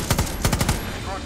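Rapid bursts of turret machine-gun fire in the PC shooter Far Cry 6, a few quick rattling volleys over about a second, loud and close with game ambience.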